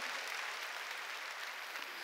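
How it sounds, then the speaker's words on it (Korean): A church congregation claps steadily through a Sunday worship service, a continuous even patter of many hands, fairly faint and with no voices over it. "아, 박수 세게 치라니까."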